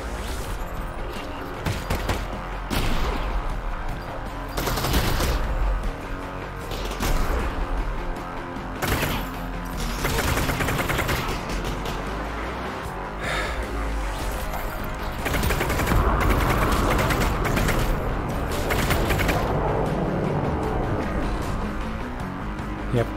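Shotgun blasts and other gunfire from Half-Life: Alyx in a dusty custom VR map, loud and repeated in irregular bursts over busy game noise and music.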